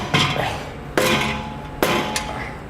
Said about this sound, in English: We use a rubber mallet and tap it a little bit.